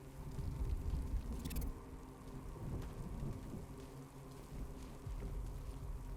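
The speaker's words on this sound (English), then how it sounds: "What's with all the rain?" Steady rain pours in the Batman Arkham Knight video game, a dense hiss of rainfall over low rumbling thunder, continuous and fairly quiet with no voices.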